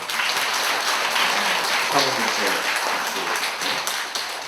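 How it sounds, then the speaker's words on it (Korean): An audience at a traditional Korean music concert applauds steadily with dense, continuous clapping that holds at an even level throughout. "여러분 그 이완주 시장님께 박수 한번"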